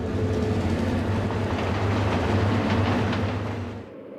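Westbound Omaha to Laramie mail train, Train 27, rolling past track workers at Creston, Wyoming, a loud steady low rumble with faint rhythmic clatter that fades slightly at the end.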